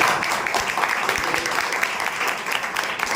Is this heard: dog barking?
no